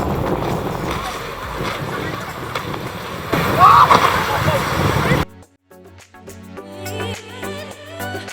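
A small excursion boat is tossed by waves off Miami Beach, with broadband wind and water rush through the first five seconds. A louder surge comes midway, then the sound cuts abruptly to a quieter passage with tonal sounds.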